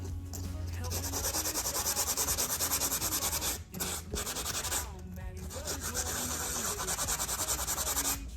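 Steady, close sanding on the metal of a rusty magnet-fishing find being restored, a continuous rasping rub with two brief pauses between strokes.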